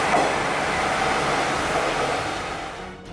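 Steady rushing rumble of a train running in Japan, a broad continuous roar at moderate loudness that tapers slightly near the end.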